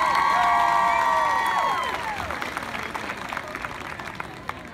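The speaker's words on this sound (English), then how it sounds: "Ladies and gentlemen, let's give a round of applause for Sam Tracy." An audience cheers and claps at a school homecoming event. Loud crowd noise with whoops and shouts rises at the start, then fades steadily into softer, scattered clapping.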